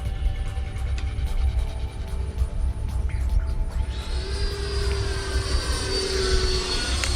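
A Freewing F-5N Tiger II 80mm RC jet makes a flat pass with full flaps, its ducted fan whining steadily and loudly, then rising in a sweeping tone as it passes close by outdoors.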